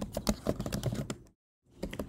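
Rapid typing on a computer keyboard, a dense run of close, crisp key clicks that stops abruptly for a brief silence and then resumes.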